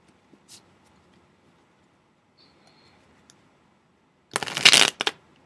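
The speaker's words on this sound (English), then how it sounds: "Those cards keep getting stuck for some reason." Tarot cards are shuffled in one short, loud riffling burst near the end, preceded by near silence and a few faint ticks.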